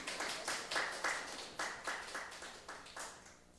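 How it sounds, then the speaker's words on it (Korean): A church congregation at a deacons' seminar claps together in a regular rhythmic beat, about a dozen unison claps, each with a short room echo, fairly faint and steady. "우리 한번 박수 쳐주십시오."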